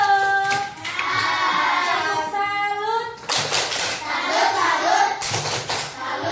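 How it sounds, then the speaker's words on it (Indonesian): A burst of clapping breaks out in a classroom, hands applauding in a lively group, mixed with children's voices and chatter. "Tepuk tangan dulu buat kita semua"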